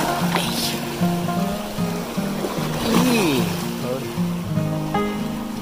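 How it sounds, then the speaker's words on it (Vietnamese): Strong sea waves crash and wash onto a shore in a broad, continuous roar with surging swells, while a person talks over the surf. "Wow, sóng đánh dữ quá."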